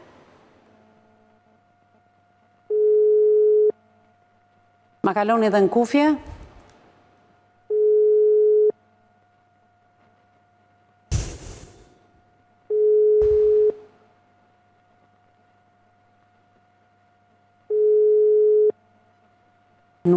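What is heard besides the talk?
telephone call ringing unanswered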